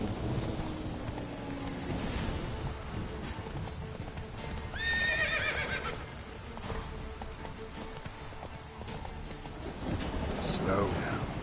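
Roach, a horse in The Witcher 3, whinnies once loudly with a rising neigh amid trotting hoof clip-clops, soft rain patter and a closing snort, with a voice heard underneath.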